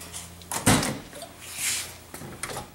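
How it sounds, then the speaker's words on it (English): A 1966 Corvette's car door unlatches with a sharp click and thud, followed by faint rustling and a couple of light knocks nearby. "Can you open that door for me?"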